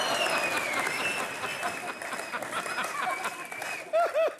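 Studio audience on a comedy talk show applauds steadily throughout, with some laughter mixed in, then a short burst of nearby voice-like sound near the end.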